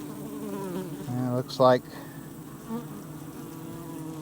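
Honey bees buzz in a Langstroth hive, a close, continuous droning hum with a few louder passes of single bees near the microphone; a voice speaks briefly.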